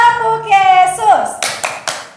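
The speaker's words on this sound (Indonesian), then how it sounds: "supaya semakin semangat ibadah kita mau tepuk Yesus" A group of students claps along to an Indonesian 'Tepuk Yesus' hand-clap chant at a high school worship service, sharp claps at the end following a sung call, with voices chanting over them.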